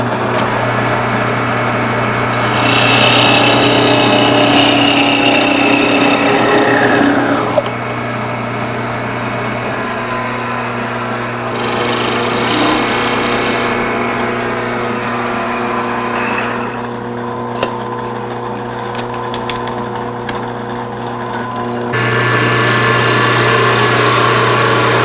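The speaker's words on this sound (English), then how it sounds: "slow the lathe down, sand it, and then part it off the lathe and friction fit it" A wood lathe spins with a steady motor hum and whine while sandpaper is pressed against the turning wood in several loud, hissing bursts that come and go.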